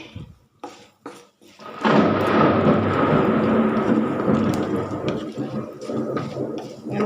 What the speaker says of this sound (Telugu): ఉరుముతుంది, వర్షం పడుతుంది.